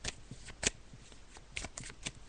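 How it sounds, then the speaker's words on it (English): Tarot cards are shuffled quietly and close by, a soft run of papery riffles and taps in an uneven rhythm. "I'm just shuffling the cards now."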